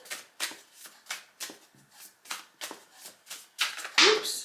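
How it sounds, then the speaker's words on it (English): A tarot deck is shuffled by hand in a quiet room, a run of about ten crisp riffling bursts in steady rhythm, ending in a louder flurry of cards being tossed about. "let's give this deck a really good shuffle"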